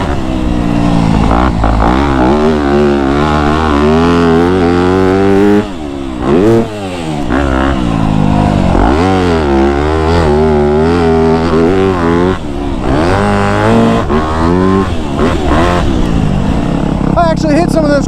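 Motocross motorcycle ridden hard around a sand track, engine revving loud and continuously with rising and falling throttle pitch and brief dips between corners.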